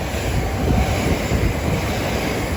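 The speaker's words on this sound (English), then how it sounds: "Soon to pass through now will be a South Eastern service pair of 375s going from Ramsgate and Faversham to London Charing Cross" Pair of South Eastern Class 375 electric units passing through Orpington station, a loud, close, continuous rumbling roar of wheels and rushing air with no talk.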